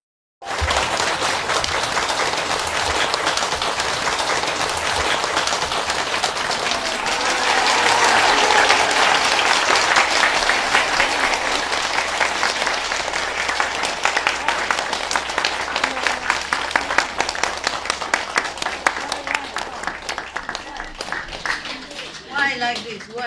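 An audience claps steadily for about twenty seconds, a dense, loud patter of many hands that swells midway and then tapers, with voices heard under it.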